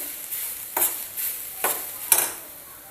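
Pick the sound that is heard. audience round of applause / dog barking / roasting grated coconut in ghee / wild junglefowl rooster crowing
roasting grated coconut in ghee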